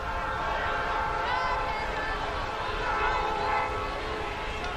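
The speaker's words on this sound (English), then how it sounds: "Train goes roaring by." A train roars past a rugby league ground during a 1985 Winfield Cup match between Parramatta and Canberra, a steady loud rumble with horn-like tones throughout, under crowd noise and commentary.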